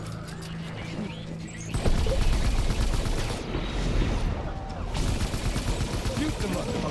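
Heavy gunfire in the video game Death Stranding, dense bursts of rapid automatic shots that swell and keep rattling loudly, with brief voices underneath.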